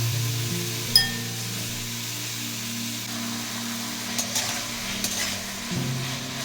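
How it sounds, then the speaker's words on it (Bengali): Potatoes salted with rock salt fry in a pan for sabudana khichdi with a steady low sizzle, broken by a few light clinks and scrapes of stirring; no one speaks. "আলুগুলো ভালোভাবে ভেজে নিতে হবে।"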